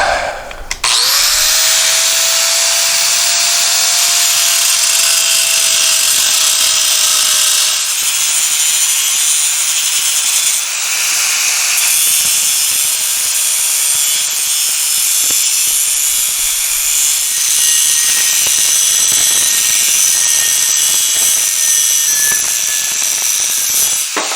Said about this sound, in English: use a grinder with a cutting disc and cut this bracket off the bad motor